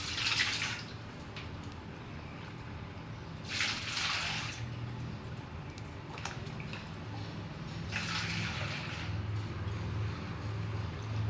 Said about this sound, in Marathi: आता हे पाणी या चाळणीने गाळून घेऊया।